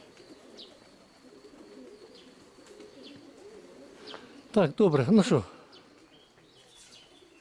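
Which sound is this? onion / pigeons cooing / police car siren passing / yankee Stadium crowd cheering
pigeons cooing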